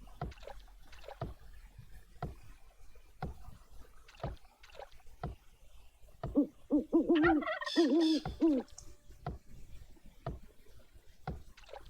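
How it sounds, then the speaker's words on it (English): Turkeys gobble in Age of Empires II, a burst of warbling calls in the middle of the clip, set against repeated sharp game clicks and effects. "Damn you turkeys!"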